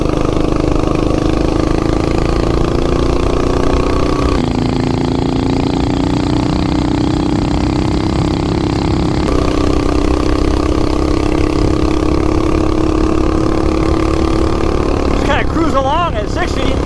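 A ported, higher-compression 420cc minibike engine drones steadily at speed, loud and close, its pitch slowly climbing and holding, with a brief break in the roar partway through and a short squeal near the end.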